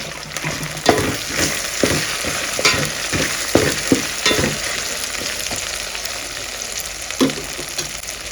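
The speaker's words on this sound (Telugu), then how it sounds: "చిన్న ఉల్లిపాయలు కొంచెం సేపు వేగల్లా ఒక ఐదు నిమిషాలు వేగనిద్దాం" Small onions frying in oil for a chicken kushka, a loud continuous sizzle close by with regular scraping stirs of the spatula against the pan.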